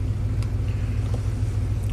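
Rebuilt Ford big-block truck engine idling in closed loop, a steady, continuous low rumble close by with an even, unchanging tone and no voices.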